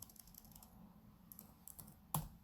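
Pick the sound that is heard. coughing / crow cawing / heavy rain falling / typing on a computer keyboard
typing on a computer keyboard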